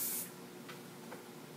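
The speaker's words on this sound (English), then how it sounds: "Go ahead and spray all over your hair just to give it a little lift, hold" A short, faint hiss of hairspray misted onto hair before setting it in hot rollers, a quick burst at the start followed by a soft lingering spray and a couple of light puffs.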